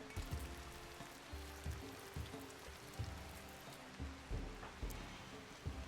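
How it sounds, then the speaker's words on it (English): Steady rain patters over a game world in RimWorld, a constant wash of drops with soft thumping pulses underneath, moderately quiet and continuous. "Is it raining in there? I think it might be."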